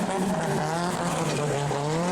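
A drift car at Driftfest Round 1 in Fermoy, Ireland, runs hard along the wall by the judges' tower, its engine droning loud and steady with continuous tire squeal and skidding throughout.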